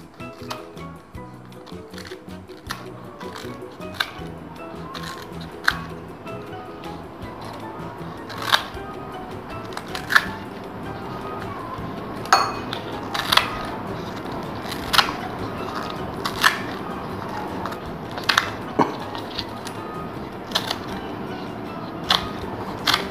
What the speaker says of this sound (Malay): Kita gunting kecil-kecil supaya mudah dikisar.